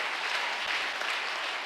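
A church congregation claps and cheers in praise, a dense, steady wash of applause that fills the space evenly throughout, with no clear voices standing out.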